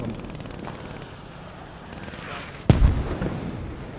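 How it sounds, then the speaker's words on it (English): Mortar shells landing in the WWII shooter Squad 44: a sharp, loud impact blast near the end of a quiet stretch, followed by a rumbling tail. "And now mortars."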